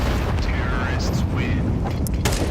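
Loud, dense boom and rumble of a grenade blast in a competitive shooter match, filling the short moment with heavy low-end noise and scattered mechanical clatter, with no voices over it.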